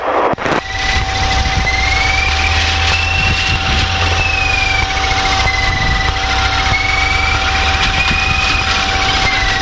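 Light aircraft engine idling steadily on a grass airfield before taxiing, a loud continuous drone with a fixed whine and slowly wavering pitch, with no talk over it.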